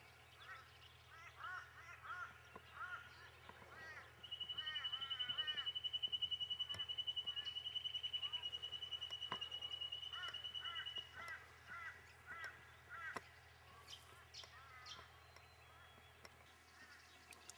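Early morning bird life on a riverbank camp, with crows cawing and other birds calling in short repeated bursts, plus a long thin whistle-like note, all faint and spread out over a low steady hum.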